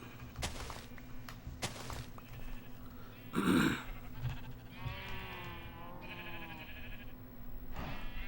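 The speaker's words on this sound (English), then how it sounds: "Hello, sheep." Sheep bleat in Minecraft on a swamp dock, a short loud bleat near the middle followed by a wavering bleat, over a low background hum with a few soft thuds.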